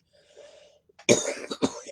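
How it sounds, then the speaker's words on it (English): After a faint murmur, a person coughs sharply and close up, two or three rough bursts in quick succession. "excuse me again for coughing at you"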